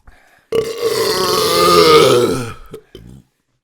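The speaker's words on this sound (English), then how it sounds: "It is one of those burps that, like, you have to push it." One long, loud, forced burp, a drawn-out guttural belch of about two seconds, followed by a couple of short trailing grunts, with no other sound around it.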